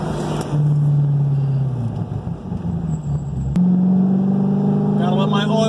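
A 2010 Corvette Z06 with a changed exhaust rumbles nearby, its V8 holding a deep, steady tone that dips briefly and then settles into a louder, stable note, while a person talks over it.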